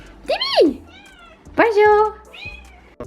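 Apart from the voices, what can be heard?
cat meowing, wanting to come in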